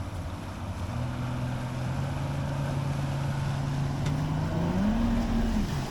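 A bass boat's outboard motor hums steadily at low throttle while being driven onto a trailer, its pitch rising briefly near the end under light wind noise outdoors.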